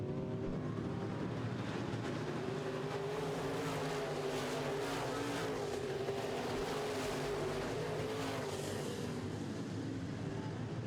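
Modified race cars roar around a dirt track in a Midwest Modifieds feature, a dense continuous engine drone from several cars bunched through the turns, loud and unbroken.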